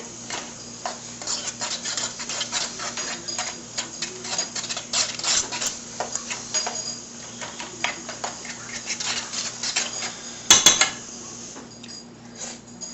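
Cheese being stirred into a pot on a stovetop, a spoon scraping and clinking against the metal in quick irregular taps and rattles, close and fairly loud, with one sharper knock near the end.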